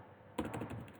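Quick burst of close, crisp keystrokes on a computer keyboard, about half a dozen clicks in rapid succession after a brief quiet moment.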